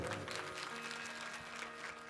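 An audience at a Satnam devotional gathering in Chhattisgarh claps in a soft, continuous patter that stays even across the moment, with a faint tonal hum underneath.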